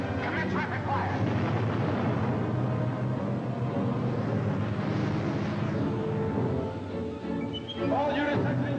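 Rapid artillery fire from a 1982 film clip: heavy, continuous booms and blasts pile into a dense roar, with a short lull near the end before the firing resumes.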